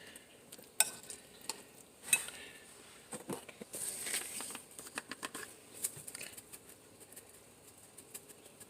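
Chopped boiled eggs mixed into a bowl of potatoes and vegetables for potato salad, with soft irregular scraping, squelching and clinking of a utensil, close and fairly quiet, with a few sharper knocks.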